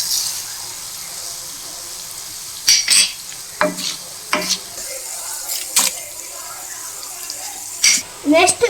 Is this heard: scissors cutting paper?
no